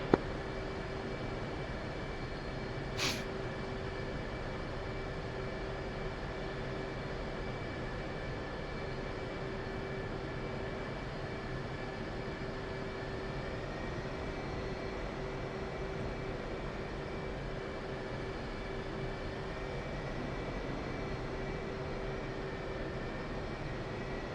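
An aircraft taxis at an airfield in a combat flight simulator game. The engine gives a continuous, steady drone with a sustained tonal hum, and a brief click comes early on. No one speaks.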